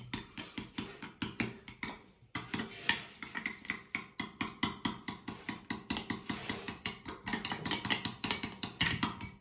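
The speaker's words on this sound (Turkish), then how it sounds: "Önce az bir su koyup karıştırıyorum güzelliğini." Tomato and pepper paste being stirred into a little warm water with a spoon in a pan or bowl, a steady series of close, rhythmic clinks and scrapes continuing without pause, no talking.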